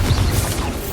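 A Confringo spell blast in Hogwarts Legacy: a short, dense crash-like burst with a heavy low rumble, loud and close, lasting about a second.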